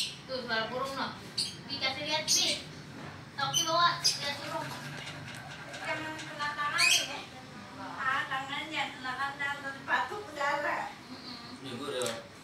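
A very fierce pet bird calls up close, giving repeated harsh, scratchy squawks and chattering bursts in uneven clusters, fairly loud throughout.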